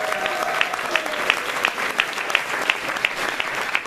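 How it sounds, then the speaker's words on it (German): Theatre audience applauding for the team of the Komödie Dresden after a show, dense steady clapping from a large crowd with a few sharper claps standing out, no talk over it. "Ein großer Applaus für das Team von der Komödie Dresden."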